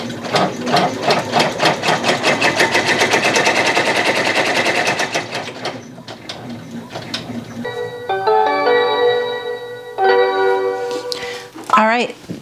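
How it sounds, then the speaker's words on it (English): A sewing machine stitching closed a stuffed fabric cookie runs in a fast, loud, steady rattle for about five seconds, then stops, followed by quieter ringing bell-like tones. "we're gonna head back to the machine to sew up that last little part"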